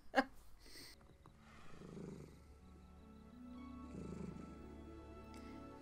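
A low, steady purring rumble from a large animal, continuing for several seconds with a short sharp sound at the start.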